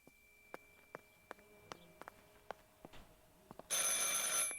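A telephone rings inside the video game Martha is Dead: a thin steady tone runs under scattered soft clicks and taps, before a loud hiss abruptly takes over near the end.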